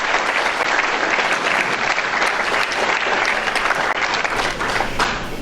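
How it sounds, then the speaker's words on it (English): Sustained applause from an audience at a distinguished alumni awards ceremony honoring current students, dense steady clapping filling the whole stretch with no speech over it. "if we could give them another round of applause"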